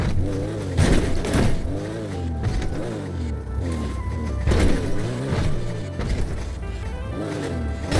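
A car in GTA 5 drives with a steady engine drone, rising and falling revs and occasional knocks and thuds, loud and close throughout, with faint talk underneath.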